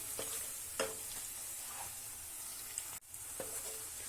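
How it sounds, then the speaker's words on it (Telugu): Onions frying in a pan, a steady soft sizzle with a few faint stirring scrapes and a sharp clack near the end. "ఆనియన్స్ ఫ్రై చేసుకుందాం"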